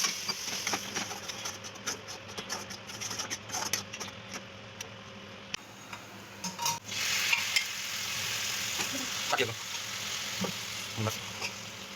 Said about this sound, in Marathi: कांदा लसूण खोबरं पेस्ट आणि गरम मसाला तळायला घेतला होता तिने